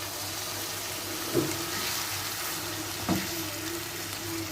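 A chicken bun filling sizzles in a pan after a cup of liquid milk is added, a steady close frying hiss broken by two soft stirring scrapes.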